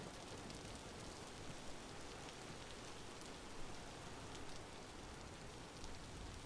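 Rain in the video game Vintage Story: a steady, dense hiss of falling rain, even and continuous, with no talking.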